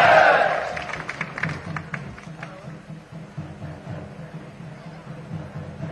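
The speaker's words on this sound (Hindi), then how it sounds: "सभी लोग जोरदार तालियों के साथ हमारे राष्ट्रीय अध्यक्ष जी का स्वागत करेंगे" A political rally crowd bursts into cheering and clapping that peaks at the start and then settles into a lower murmur of voices and scattered claps in the distance.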